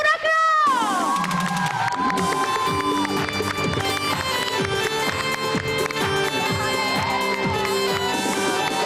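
Studio audience on an entertainment talk show cheering and clapping for an arriving guest, a loud, dense crowd roar with music playing throughout, sustained for several seconds.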